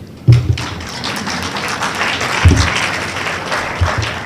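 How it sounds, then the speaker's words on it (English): A crowd applauds in a large room at an award presentation, a steady wash of clapping punctuated by a few heavy thumps, continuing throughout without pause. "A round of applause for Professor Lalendle."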